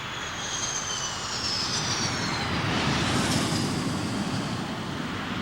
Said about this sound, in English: the massive Pratt & Whitney F100 turbofan engines, part of the secret of the Eagle's phenomenal performance,